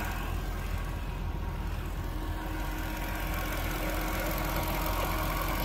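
A 2006 Jaguar XKR's supercharged 4.2-liter V8 engine idles steadily with a deep, even rumble, running alone without any talking over it.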